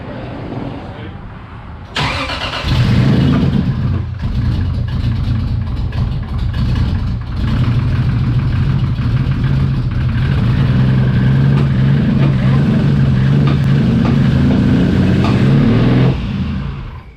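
A Toyota Supra street car engine fires up after about two seconds and settles into a loud, steady, lumpy idle with occasional blips of revving, with slight popping from the intake.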